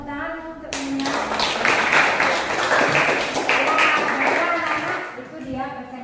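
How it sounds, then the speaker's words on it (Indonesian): Classroom applause for students after a group presentation, a dense burst of many hands clapping that starts abruptly, holds steady for several seconds, then fades, with a voice briefly audible at the start and end. "Tepuk tangan untuk"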